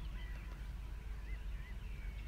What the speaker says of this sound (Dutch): de rustgevende vogelgeluiden die je steeds hoort op de achtergrond